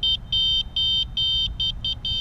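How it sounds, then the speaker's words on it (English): The electric bike's horn on a Flash V1 bike gives a string of loud, sharp beeps in uneven bursts, some short and some longer, close up over a low background hum. "let's just listen to the horn real quick. So it's more like a beep, but it's pretty loud."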